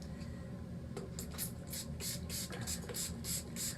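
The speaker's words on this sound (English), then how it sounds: "So a good finishing touch is setting spray of your choice." Close, quick hissing spritzes of a spray bottle, about ten short bursts in an uneven rhythm, over a soft background hum.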